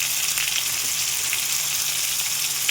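Food sizzling steadily in a hot pan while potatoes and rice are cooked for biryani, a continuous fine crackle at moderate level with no voices.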